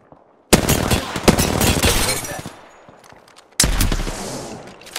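Loud bursts of gunfire in the Apex Legends video game, a long sustained volley of rapid close shots that tapers off, a pause, then a second heavy burst starting abruptly.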